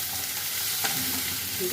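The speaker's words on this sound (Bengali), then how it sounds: "এবারে পেঁয়াজগুলোকে কিন্তু খুব ভালো করে ভেজে নিতে হবে।" Chopped onions frying in hot oil, giving a steady, loud, close sizzle with a brief stirring scrape partway through.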